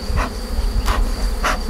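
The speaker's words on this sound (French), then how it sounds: "donc ça c'est un essaim qui marche très bien" Honeybees from a thriving swarm buzz close and loud in an apiary, a dense droning hum with a few individual bees passing near in brief louder swells.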